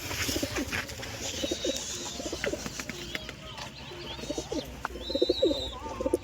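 Large pigeons coo in repeated low, throaty bursts close by, with occasional higher chirps from other birds mixed in over a steady background murmur.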